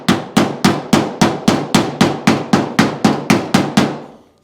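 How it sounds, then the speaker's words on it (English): Gentle hammer taps on the body of a 1955 Chevy Nomad during paintless dent repair, about fourteen evenly spaced, ringing strikes close by, each decaying quickly, with no voices. "Gentle tappy tappies."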